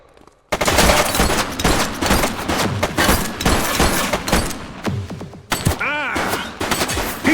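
Gunshots ring out in a shootout in the video game The Precinct, opening with a loud burst of heavy rapid fire. Dense volleys follow, joined by booming impacts and a short ringing tone late on.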